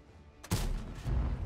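A heavy tank cannon fires in World of Tanks, firing the Object 260, one sudden loud boom followed by a rumbling low echo and a second swell of rumble.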